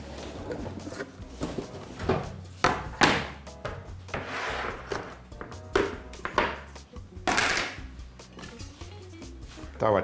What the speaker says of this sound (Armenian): Տավարի փափկամիսը կտրատում ենք հարմար չափերի, որ հեշտ լինի աղալ